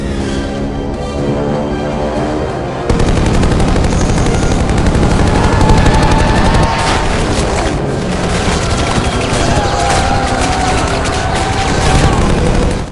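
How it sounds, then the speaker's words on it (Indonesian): Movie machine guns fire in dense, loud, continuous bursts, overlapping with booming impacts and explosions in a chaotic wall of battle noise that runs almost the whole time, with music beneath the opening moments. "Tembakan brutal dari senapan mesin pun meluncur"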